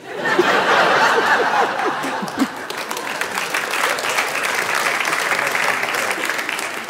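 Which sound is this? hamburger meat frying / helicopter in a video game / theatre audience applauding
theatre audience applauding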